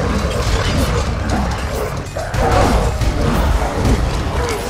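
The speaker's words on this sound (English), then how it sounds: "Oh, we got dogs." Hostile dogs in the God of War 3 video game, heard as loud barks and yips mixed with grinding, ratcheting mechanical game noise, dense and continuous throughout.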